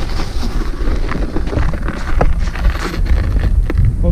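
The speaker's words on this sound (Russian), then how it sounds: "Ну вот только единственное, что ветер." Wind sweeps across frozen Lake Janisjärvi in winter, a loud, close, continuous buffeting rumble on the microphone with gusty surges and small crackles, and no talking.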